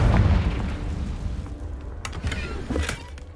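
A Confringo spell blast in Hogwarts Legacy goes off as a heavy, rumbling boom that starts the clip loud, followed by a rough, crackling decay and a couple of fainter bursts.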